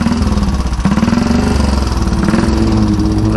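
A 1934 Velocette KTT motorcycle engine runs loud and close, a steady rapid single-cylinder beat with a brief dip before settling back to an even throb, no voices over it.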